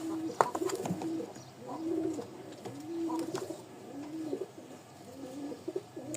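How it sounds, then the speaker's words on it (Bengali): Pigeons being sold as pet and racing stock, including a tiger-marked male, coo in soft repeated low phrases that run steadily through the whole stretch, with a few flutters and chirps and no talking. "ছয় পিস কবুতর মাশাআল্লাহ"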